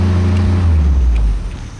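A Jeep engine is revved hard up close, a loud low roar that climbs in pitch and then drops off near the end, with no talking.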